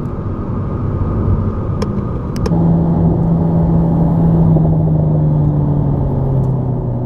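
A 2019 Alpine A110 mid-engine sports car driving, its engine droning steadily and loud with a brief change near the start as the automatic gearbox upshifts, then a sustained even hum under road and wind noise.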